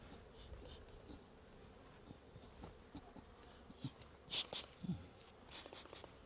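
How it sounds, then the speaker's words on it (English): Agitated honey bees buzz around an opened hive during mid-July inspection, a faint steady drone with occasional louder close passes and light handling knocks. "Not happy, these bees."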